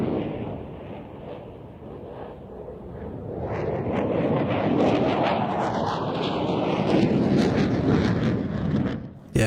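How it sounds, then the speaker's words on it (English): JF-17 Thunder and F-16 fighter jets at an air show, a loud continuous roaring rumble that swells and builds as the aircraft pass, with wind buffeting the microphone. "The F-16 completing that Cuban 8, and both aircraft heading out to the left-hand side for the next manoeuvre."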